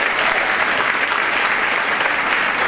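Dense, loud applause fills a high school varsity sports awards ceremony as a crowd claps steadily and evenly throughout, with no talking over it.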